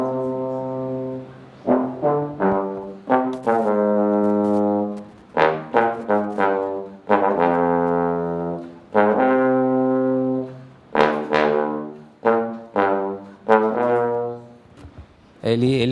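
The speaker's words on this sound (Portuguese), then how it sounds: "vamos mostrar o som do trombone baixo" A bass trombone plays very low, deep notes alone in a concert setting, a series of sustained growling tones broken by short gaps and a few faster note runs, near and full-bodied.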